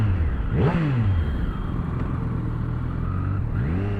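A Triumph Street Triple 765 RS motorcycle engine revs hard up close, settles into a rumbling idle, then revs again.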